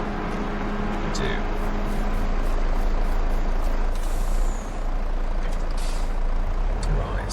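A lorry in Farming Simulator 22 idles with a steady engine drone, a hissing air brake release, and brief high beeps, all fairly loud and continuous.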